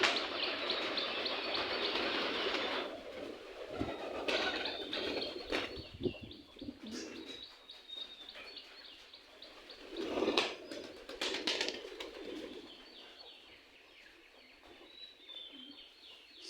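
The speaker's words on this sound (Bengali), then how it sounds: "আপনারা চাইলে কবুতর পুষতে পারেন।" Pigeons on a farm coo softly in low, rounded calls, with occasional chirps and rustling mixed in; the birds sound fairly close but quiet, with irregular bursts and pauses.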